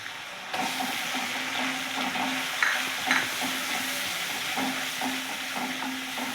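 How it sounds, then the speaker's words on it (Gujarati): Onion frying in oil in a pan for Kathiyawadi garlic potatoes, a steady close sizzle with faint stirring clicks, starting abruptly after a brief quiet moment and continuing evenly without talk. "હવે આપણે આની અંદર ડુંગળી નાખીશું."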